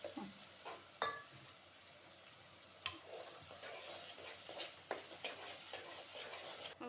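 Grated coconut roasting in a pan for a village-style potato curry: a quiet, steady dry sizzle broken by occasional scraping clicks and taps of the spoon stirring against the pan.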